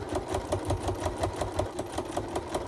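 A sewing machine stitches a Santa pot holder, running in a fast, even rhythm of repeated mechanical clicks and hum, close and fairly quiet with no talking.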